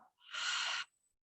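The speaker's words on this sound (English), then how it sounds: "Exhale, mouth." Steady breath pushed out through the mouth during a restorative relaxation exercise, a single soft, airy whoosh lasting about half a second that fades into quiet, heard alone and close.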